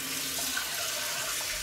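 Tap water runs steadily into a sink while a Merkur Progress 500 safety razor is rinsed, a close, continuous hissing splash at moderate level with no voices.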